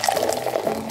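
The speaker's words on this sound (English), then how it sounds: "The first thing we have to do is we have to put the sap into the evaporator." Maple sap pours into an evaporator in a cartoon, a short, loud, close burst of sloshing liquid lasting about a second.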